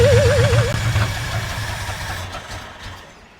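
A 1965 Ford F350 truck's 352 FE engine runs nearby after a manifold exhaust leak repair, a deep, steady rumble with faint knocking, gradually fading quieter over a few seconds.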